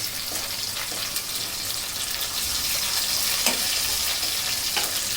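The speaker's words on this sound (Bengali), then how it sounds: "এখন আমি দিয়ে দিচ্ছি সেই তেজপাতা, আর দিয়ে দিব সেই আদা রসুনের পেস্ট।" Bay leaf and ginger-garlic paste frying in hot oil, a steady close sizzle with scattered pops and crackles, no talking, while a lentil-and-rice khichuri is being cooked.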